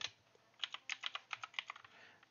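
Fast typing on a computer keyboard to enter a website address in a browser, a quick run of close, crisp key clicks with brief pauses, no voices.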